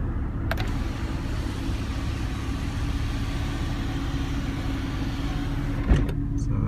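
Inside a Porsche 911 (996), the sunroof motor whirs steadily for several seconds as the roof closes, ending with a faint click near the finish.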